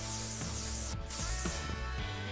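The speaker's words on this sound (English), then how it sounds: "I'm just going to give the curls a quick blast of hairspray to help hold them in place." Hairspray blasted onto freshly curled hair: bright hissing spray bursts with a brief pause between them, set over soft background music.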